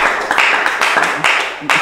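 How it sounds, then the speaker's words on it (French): A crowd claps and applauds for Madame Beurette in a dense, steady patter of hands that swells in a few bursts over about two seconds, with no voices rising above it. "on applaudit pour Madame Beurette, on applaudit"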